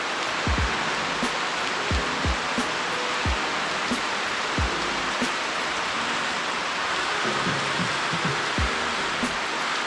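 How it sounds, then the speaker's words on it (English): Rain pours steadily in a dense, even wash, broken by heavier drops landing as irregular low thuds every second or so, with no one talking. "Look at that rain."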